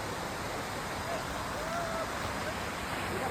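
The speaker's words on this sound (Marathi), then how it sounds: "सो वरती गेल्यानंतर धबधबा आहे सवतसडा" Savatsada waterfall near Chiplun in the Konkan monsoon pours in a steady, broadband rushing roar, continuous and fairly distant, with no other distinct sounds.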